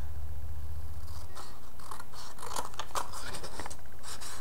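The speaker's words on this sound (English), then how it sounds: "And then again, I'm going to cut with my scissors." Scissors snip through black paper for a handmade card, with a rapid series of close, crisp cuts and rustles over a low steady hum and no talking.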